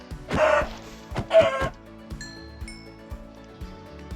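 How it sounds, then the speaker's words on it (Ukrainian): Chickens in the Minecraft video game, two loud clucking squawks near the start followed by lighter game clicks and pops, with no talk. "я вже добув курку"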